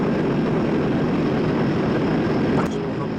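Steady loud turboprop engine drone in a flight simulator game during a landing approach, a dense continuous propeller roar with a voice talking over it.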